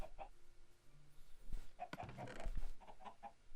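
Chickens in the Minecraft video game cluck in short, quiet bursts over a low background hum, scattered through a few seconds of gameplay.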